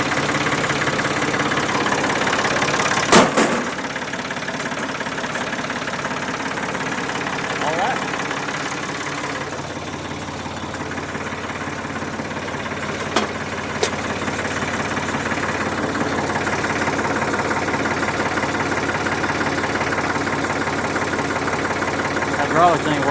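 A running tractor engine idles steadily throughout, a continuous mid-low drone with occasional brief knocks, alongside some talking.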